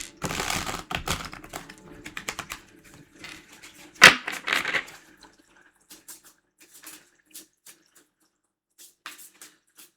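Tarot cards are shuffled with quick papery flicks and clicks, a sharp riffle burst in the middle, then sparse soft taps trailing off into quiet.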